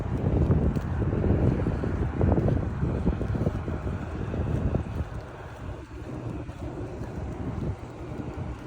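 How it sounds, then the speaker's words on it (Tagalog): Wind buffeting the microphone in gusty, rumbling bursts, strongest early and easing somewhat later, with no voices present. "medyo mahangin"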